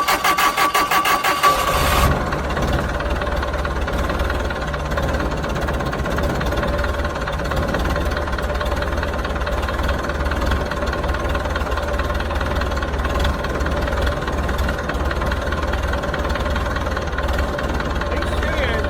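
A Hesston 620 windrower engine, left sitting for ten years, cranks briefly and then catches, settling into a loud, steady idle that runs continuously close by.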